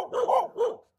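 Two Chow Chow dogs give a short burst of deep, close barks, two loud woofs in quick succession with nobody speaking.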